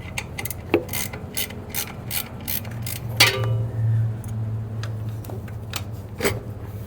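A ratchet clicks in quick, uneven strokes while loosening a fitting on a Mustang engine, close and fairly quiet, over a low steady hum and scattered metallic knocks.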